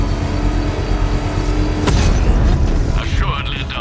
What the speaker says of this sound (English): trigger a controlled explosion.